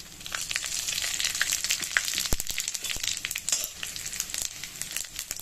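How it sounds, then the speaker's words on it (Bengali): Whole cumin seeds, bay leaves and two dried red chilies sizzle and crackle in hot oil in a pan, a steady close frying hiss dotted with sharp pops from start to finish. "এই তেলেতেই আমি দিয়ে দেব গোটা জিরে, তেজপাতা আর দুটো শুকনো লঙ্কা।"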